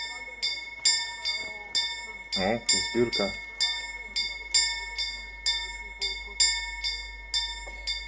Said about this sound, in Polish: A tu taki mały dzwonek, ring ding ding.